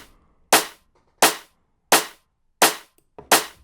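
Five layered drum and bass snare hits, clipped and punchy, land one by one at an even pace, each with a sharp crack and a short bright tail, alone with no talk.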